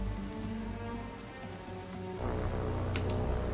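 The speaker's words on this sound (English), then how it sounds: "I'd like the rain to go away" Steady rain falling in the naval combat game War on the Sea, a dense continuous hiss with a low rumble underneath that thickens partway through, no voices.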